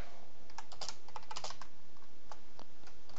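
Fingers type on a computer keyboard in quick irregular bursts of crisp, close clicks and clacks, with short pauses between words and no one speaking.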